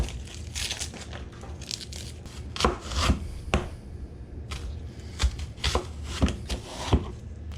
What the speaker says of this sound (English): we're just gonna kind of coarsely chop this stuff up